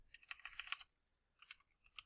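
Quiet keystrokes on a computer keyboard come in two short bursts of rapid clicking separated by a brief pause, faint and close with nothing else audible.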